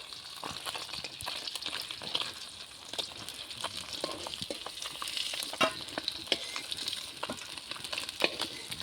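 Khoira fish frying in a pan, a lively, crackling sizzle broken by frequent spatters and the occasional scrape of stirring, steady throughout without any speech.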